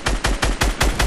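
Rapid automatic gunfire in an online shooter, six evenly spaced loud shots about a fifth of a second apart, close and punchy with no talking.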